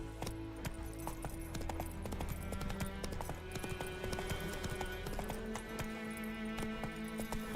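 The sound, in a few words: horse Roach galloping, Witcher 3 video game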